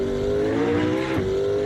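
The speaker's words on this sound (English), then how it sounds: "Those cars ain't got nothing on the sound of this P1 right here." Turbocharged McLaren P1 engine in Assetto Corsa gameplay: a loud, steady droning rev holding near one pitch, with a brief dip and recovery around a gear change, heard close without any voices.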